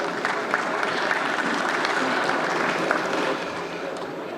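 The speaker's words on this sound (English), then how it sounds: "I think big round of applause." A big round of audience applause at an urban cooperative banking conference session, dense and sustained clapping filling the hall at an even level before tapering slightly at the end.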